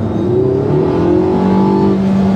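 A high-performance hypercar engine revs loudly and continuously nearby, its pitch rising and sweeping in a smooth, whining roar.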